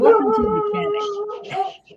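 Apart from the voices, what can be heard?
dog howling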